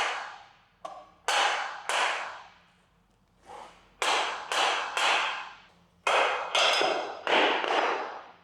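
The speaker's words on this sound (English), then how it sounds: "let's see if I can't knock that off with a hammer" Sharp metallic hammer blows strike a part on a Suzuki GS750 motorcycle during a custom build, about ten close, loud hits in irregular bursts, each ringing briefly before the next.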